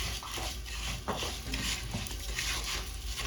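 Washed rice being stirred into golden fried onions in a pot for koshari, a continuous crackling sizzle with scraping spoon strokes and soft grainy shuffles repeating close by.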